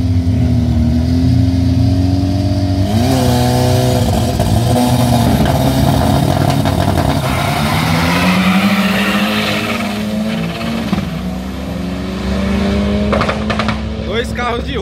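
A drag racing car's loud engine revs and accelerates hard at a drag strip in Sorocaba, pitch climbing through gear changes, close and roaring throughout with voices faintly beneath.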